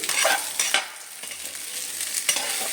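Potatoes sizzle and are stirred in a hot pan with a little salt, spatula scrapes and clinks scattered over a steady close frying hiss.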